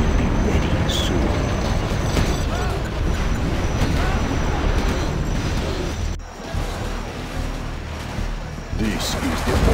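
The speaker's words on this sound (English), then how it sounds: "This is the Overlord tank." The Overlord tank rumbles along in Command & Conquer Generals Zero Hour, a heavy, continuous grinding roar like rolling rail cars. The sound dips briefly partway through and runs under in-game unit voice lines.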